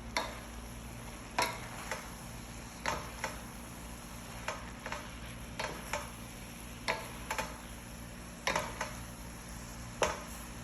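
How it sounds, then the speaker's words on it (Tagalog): Boiled macaroni being stirred with a utensil in a bowl, giving a string of sharp, evenly spaced clinks and taps over a quiet background hum, with no voices. "At add ko na itong macaroni na pinakuluan ko. Mi-mix ko siya."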